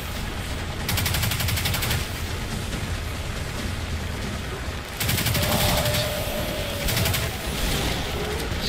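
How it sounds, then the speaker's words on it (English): Sustained rapid automatic gunfire in the video game Destiny 2, long dense bursts of rattling shots with a brief pause near the middle, loud and continuous amid battle noise. "Stop shooting at me!"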